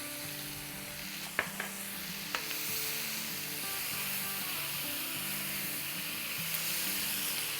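Ginger and garlic paste fries with curry leaves in a pan for a mixed vegetable handi, giving a steady close sizzle throughout with a couple of sharp clinks early on and no talking.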